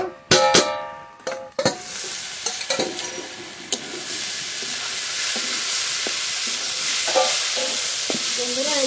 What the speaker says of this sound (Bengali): ঢাকনা তুলে মোচা নেড়ে নেব।